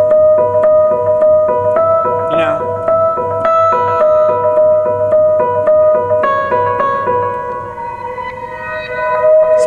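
Reverse synth pad progression mimicking an electric guitar line, played on keyboard for a worship song, with sustained harmonic tones that swell and shift chords steadily, loud and alone with no talk.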